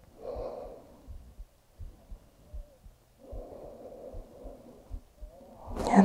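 Slow, deep breathing during yoga practice, close and soft, with long drawn inhales and exhales separated by quiet pauses, ending in a louder rustle.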